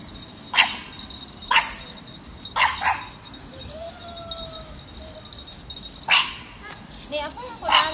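Dogs bark in short separate bursts at irregular intervals over a constant background hiss, a few yips mixed in, no talking.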